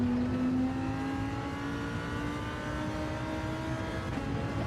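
A Lamborghini Huracan GR3 race car at Lago Maggiore in a racing video game coasts off the throttle, its engine a steady droning whine that sinks slowly in pitch, close and continuous throughout.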